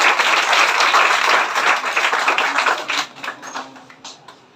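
Loud applause for a student topper at a school award ceremony, a dense burst of many hands clapping that gradually thins out into scattered claps toward the end.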